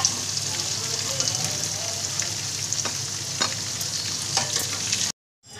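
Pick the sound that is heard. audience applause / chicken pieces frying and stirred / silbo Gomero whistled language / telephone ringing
chicken pieces frying and stirred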